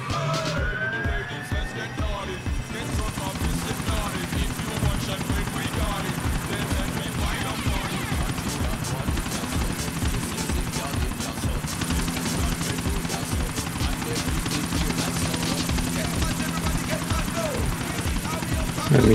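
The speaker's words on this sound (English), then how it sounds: "Oh my god, I don't wanna use the helicopter again." Helicopter flying in the video game GTA 4: The Ballad of Gay Tony, a steady, loud rotor chop and engine drone running throughout, with siren-like game sounds and a voice talking over it.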